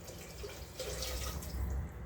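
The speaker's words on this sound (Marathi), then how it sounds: "फक्त 1 तांब्याभर आता याच्यामध्ये आपण पाणी ओतून घेऊ आणि कुकर लावून टाकू" Water pours from a vessel into a pressure cooker as a steady, close splashing gush that runs through the whole short moment. It is fairly quiet, with no talking.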